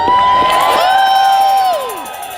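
A large crowd of activists at a rally at the Capitol cheers and whoops loudly, and one high shout rises above the din. The cheering starts at full strength and eases off slightly toward the end.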